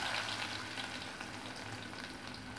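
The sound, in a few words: sliced shallots frying in oil with mustard seeds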